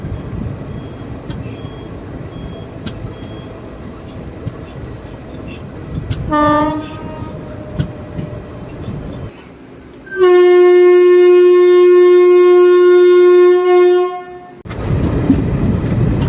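The Salem–Karur passenger train pulls out of Mohanur station with rolling wheel rumble and a short horn blast, then a long, loud, steady horn sounds before the clatter of carriages takes over.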